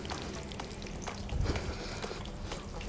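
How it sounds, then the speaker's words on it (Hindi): Onion pieces fry in hot oil in a pot, giving a dense, steady sizzle that stays loud and continuous throughout, close up, with no speech over it. "अपना ऑयल हमने ले लिया और साथ में प्याज एक छोटी, ठीक है, इसको हमने फ्राई होने के लिए डाल दिया"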